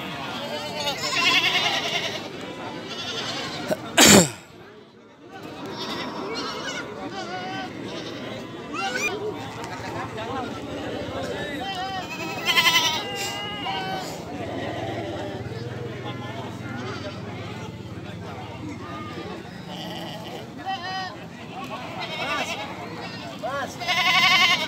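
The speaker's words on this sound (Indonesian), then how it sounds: "Kalau di sini kambing semua yang sebelah sini." Goats bleat in a busy goat and sheep market in Pringsewu, Indonesia, amid steady crowd chatter and background bustle, with one loud sharp bang early on.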